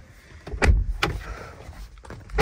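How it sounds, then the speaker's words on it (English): A Dodge Durango Hellcat door clunks open and shuts with a couple of solid thuds, close by, followed by a heavier knock at the end. "Open and close the door."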